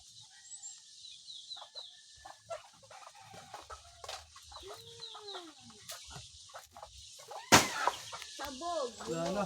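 Chickens cluck and chatter nearby in an outdoor yard, a busy run of short calls and squawks with one sharp thud partway through, and a person's voice faintly in the background.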